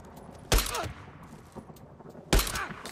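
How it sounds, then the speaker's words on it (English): Two loud, close gunshots from the Days Gone video game, roughly two seconds apart, each with a short booming tail, with quiet game ambience in between. "See if I can make the shot."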